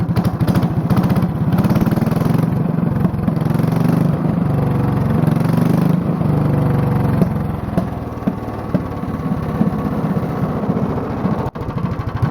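A Honda clone small engine fitted with a heavy 10 pound flywheel runs steadily with a loud, even chugging beat, close up and continuous, easing off slightly toward the end.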